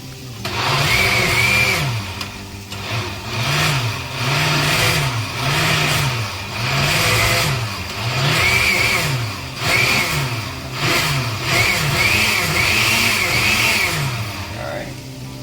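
Repeated short pulses from a blender chopping whole tomatoes in sauce, loud and close, each burst rising and falling in pitch with brief pauses between, and a faint voice now and then.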